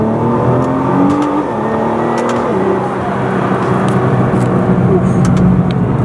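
A Nissan GT-R at full throttle in second gear, heard from inside the car as a loud, sustained engine roar that climbs steadily in pitch while occupants talk over it.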